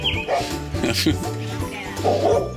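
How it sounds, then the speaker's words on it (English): A dog barks a few times with yips and whimpers close by, while people talk over it. "I hear a dog."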